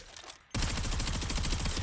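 A DP-27 machine gun in a video game fires a sustained, loud, rapid automatic burst that kicks in abruptly after a brief quieter lead-in and continues unbroken.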